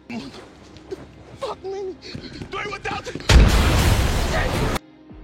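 A grenade detonates in an action movie scene: after a stretch of talk and scattered effects, a loud, broad blast erupts and roars for about a second and a half before cutting off abruptly.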